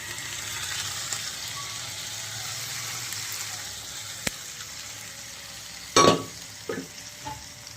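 Potatoes and kidney beans frying in a pan with a base of ginger, cumin, garlic, onion and chili, a constant sizzle with a sharp burst and splash near the end as ingredients drop in, no talking.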